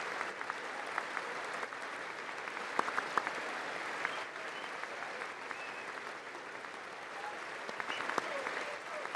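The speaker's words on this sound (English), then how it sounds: "the seeing the clapping this fast is actually freaking me out." Sustained applause from a large audience at the State of the Union address, a dense, steady clapping that fills the whole clip at moderate distance, with occasional louder individual claps.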